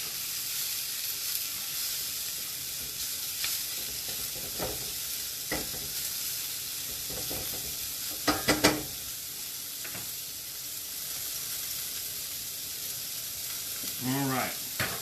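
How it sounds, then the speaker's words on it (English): Breakfast sausage and broccoli rabe stems fry in a pan with a steady, dense sizzle, broken by a few clinks and scrapes of stirring and a brief burst of louder spitting near the end. "put the broccoli Rabe stems in with the sausage. So they're all cooking along."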